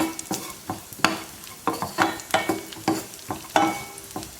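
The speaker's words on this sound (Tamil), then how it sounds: "இப்போ முந்திரி செவந்துருச்சு, கிஸ்மிஸ் போட்டுக்கலாம். கிஸ்மிஸ் நல்லா அப்படி பொரிஞ்சு வரணும்." Raisins and cashews frying in ghee while being stirred, with repeated scraping taps of a spoon in a rhythmic pattern over a soft sizzle, close and moderately loud, with no talk.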